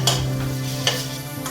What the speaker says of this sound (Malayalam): സവാള അരിഞ്ഞത്, അത് നന്നായി ചോപ്പ് ചെയ്തത് ഇട്ട് കൊടുക്കുക. നന്നായി വഴറ്റി കൊടുക്കണം.